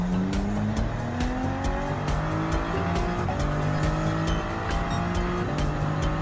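Race cars including a Porsche 911 RSR and a Lexus RC F GT3 roar around a track in Gran Turismo 7, engines whining and rising in pitch continuously with tire squeal layered in, loud and close.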